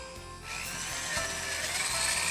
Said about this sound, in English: we'll simply drill a 1/4 inch hole where the feeder wires exit our track